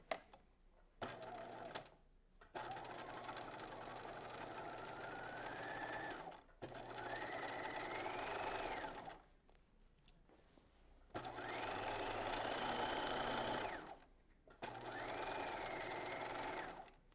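A sewing machine stitching a skirt pocket seam at 5/8 inch allowance, running in several bursts of a few seconds each with rising and falling motor whine, separated by short pauses while the fabric is pivoted.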